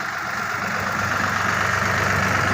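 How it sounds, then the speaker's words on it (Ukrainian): A tractor pulls a Bomet 2-30 plough through wet, heavy soil after rain, its engine a steady, labouring low drone with a rough knocking pulse, close and continuous with no talk. "Трактор іде, звісно, важко."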